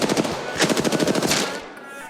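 Rapid automatic gunfire from an Apex Legends match, a fast rhythmic burst of loud close shots that briefly breaks, fires again and then tapers off into a quieter tail.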